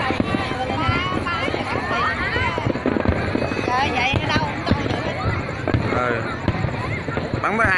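Fireworks launched in Saigon, a dense, continuous crackle of many bursts and pops, loud and sustained, with a crowd's voices and exclamations mixed in throughout.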